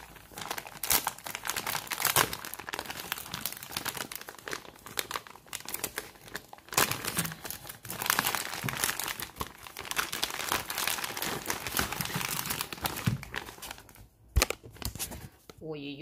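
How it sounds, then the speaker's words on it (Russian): Loud crinkling and tearing of a plastic packet, irregular rustles close by, continuing over several seconds with occasional sharper rips. "Так, вскрываем пакетик."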